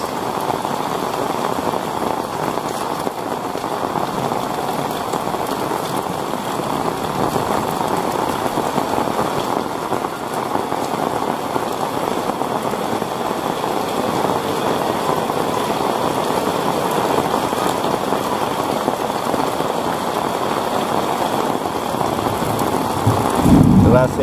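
Heavy rain pours down over Kuningan, a continuous broad hiss of falling water that holds steady throughout, with a low rumbling undertone and a brief louder thump near the end.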